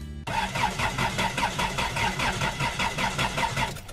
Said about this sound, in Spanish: No da, el carro no quiere arrancar. Vamos a darle otra vez.